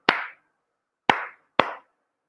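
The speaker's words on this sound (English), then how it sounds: "even if we clap a simple rhythm" Three sharp, isolated hand claps in a simple rhythm, two spaced about a second apart and the third following quickly, each crisp and close with silence between.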